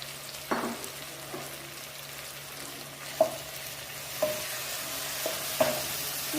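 Chicken with chicken masala and turmeric powder stirred in a hot pan, a low sizzle underneath several sharp spoon clanks against the pan at irregular intervals, close by and without talk.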